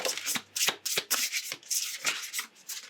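Oracle cards being shuffled by hand, a quick series of riffling, rubbing bursts in an irregular rhythm, close and crisp, no voices.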